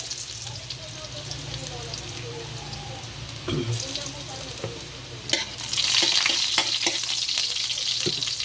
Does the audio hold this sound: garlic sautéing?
yes